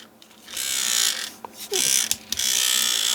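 A handheld facial toner and massager runs its vibrating motor with a steady high buzz, close up. The buzz briefly cuts out and restarts a few times, much like an electric toothbrush, and no one talks.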